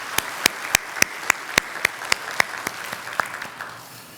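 In a Korean Sunday church service, a sparse handful of people clap in a slow, even rhythm, about a dozen distinct claps over four seconds that fade out at the end.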